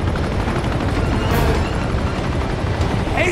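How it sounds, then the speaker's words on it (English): Helicopter gunship in the video game Uncharted 2, a loud, steady rotor thrum heard close with rattling gunfire mixed in. "I hate helicopters!"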